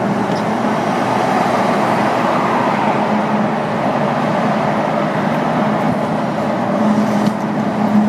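A supercharged Jaguar F-Type drives along, giving a steady, loud rumble of engine and road noise throughout, with no talking.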